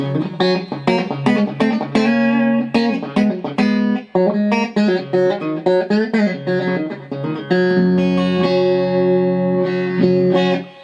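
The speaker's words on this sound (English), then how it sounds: "It's a lot of reverb." A Telecaster-style electric guitar plays chords and melodic lines that ring out with a long reverb tail, loud and close, with sustained notes washing into each other.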